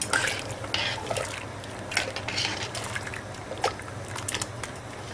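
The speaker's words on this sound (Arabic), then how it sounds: "اول ما هتغلي هسقط فيها المكرونه" Macaroni tipped into a pot of boiling water for baked pasta with béchamel, giving a brief clattering pour and scattered splashes over a steady bubbling simmer, fairly close and moderate in level.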